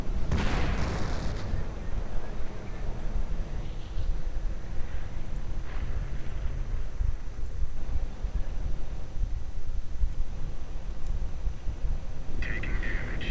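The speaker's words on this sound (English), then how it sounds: "Artillery getting called in." Artillery barrages in a WWII real-time strategy game: a heavy booming blast opens, followed by a rolling stream of distant explosions and rumbling impacts, with a sharp burst of crackling near the end.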